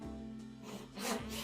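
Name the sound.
hand saw cutting a kerf in wood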